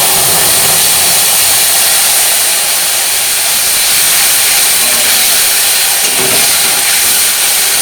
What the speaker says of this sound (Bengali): এবার এই মশলাটাকে 2 থেকে 3 মিনিট মিডিয়াম ফ্লেমে ভালো করে কষে নিতে হবে